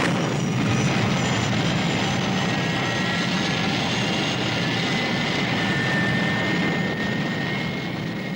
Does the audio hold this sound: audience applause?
no